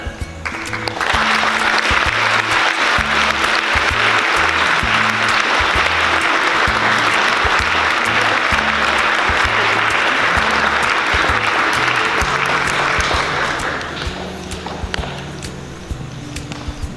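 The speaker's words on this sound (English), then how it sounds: "let's give her one more round of applause" Loud, sustained applause from an audience at the 2019 Morris Teaching Award ceremony swells in quickly, holds as a dense wall of clapping for about twelve seconds, then thins and tapers off near the end.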